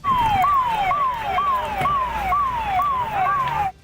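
A loud wailing fire engine siren sweeps up and down in rapid repeating cycles, close and insistent, ending abruptly, at a major fire in a scrap market in Lucknow.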